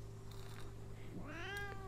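A cat in the video game Memoranda gives a single rising meow near the end, faint and clear over a quiet, low background hum.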